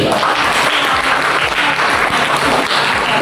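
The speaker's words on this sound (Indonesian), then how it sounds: "Beri tepuk tangan untuk" Schoolchildren clap together in a classroom at the end of an Islamic religious education lesson, a steady, continuous burst of many small hands at close range with no talking.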